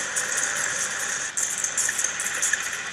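Steady mechanical engine rumble with rattling vibration aboard a vehicle in the video game Bioshock Infinite, continuous and fairly loud, heard alone without talk.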